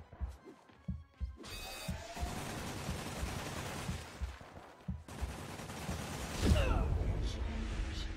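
Video game gunfire crackles in quick bursts and scattered single shots, mixed with mechanical clatter and a sharp crash partway through, with no voices over it.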